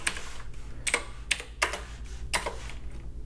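Close computer keyboard typing while writing code, heard as a handful of sharp keystroke clicks spaced out at irregular intervals over a faint steady background hum.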